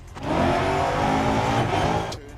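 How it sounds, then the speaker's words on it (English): A racing car engine in a video game revs hard and steadily for a couple of seconds, a loud, buzzy roar with a brief drop at the end. "the pops and farts and belches of engines running rich"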